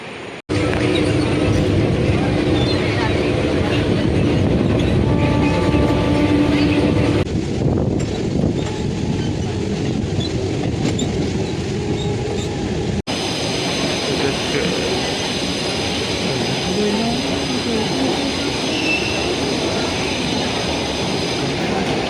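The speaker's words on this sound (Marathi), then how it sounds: "आता ट्रेन सुटली" A passenger train pulls out of a station near Mumbai and runs on the rails with a loud, steady roar and rumble lasting throughout, broken by brief squeals and a sudden shift in tone partway.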